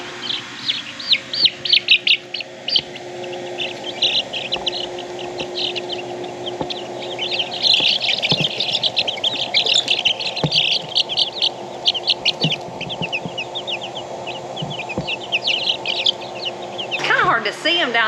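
Many newly hatched chicks peep in rapid high chirps, a busy continuous chorus nearby, with a steady background hum and some clucking.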